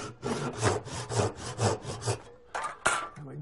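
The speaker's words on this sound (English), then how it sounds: "So I saw a little cross on the end" A hand saw cuts a cross into the end of a piece of wood for lathe turning, giving rhythmic back-and-forth strokes, about seven close rasping pushes, then a pause and a couple more strokes.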